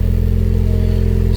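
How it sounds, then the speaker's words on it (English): An Alfa Romeo Stelvio with a hybrid turbo engine idles just after starting, a close, loud, steady low rumble with a fast even pulsing throb. "let me turn on the car, warm it up while I talk to you guys"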